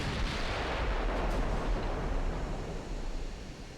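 A heavy-recoil gun in the video game UAD booms with a deep, rumbling blast that rolls on and slowly fades, loud and close with no voices.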